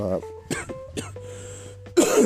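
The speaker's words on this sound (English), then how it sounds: "sorry, I'm dealing with a cough." A few short, harsh coughs with throat-clearing, close up and separated by brief pauses, ending in a louder burst.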